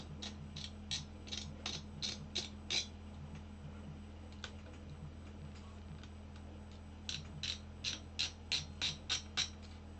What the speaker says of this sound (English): that sound is just the springs they have on these mounts